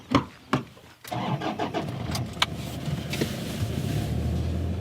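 A truck engine cranks with a couple of short bursts, then catches and settles into a steady mid-pitched idle, heard loud and close from inside the vehicle with no talking.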